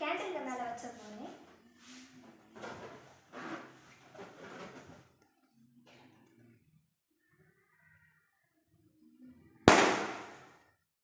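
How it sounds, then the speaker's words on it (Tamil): A sand-filled balloon held over a candle bursts with one sharp, loud pop near the end, after a stretch of talking and then quiet. "இதில் நம்ம சாண்ட் வச்சிருந்த பலூன் வெடிச்சிருச்சு"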